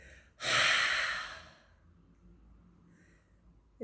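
A single long exhale during a breathing exercise, a close, breathy rush of air lasting about a second that tapers off into quiet.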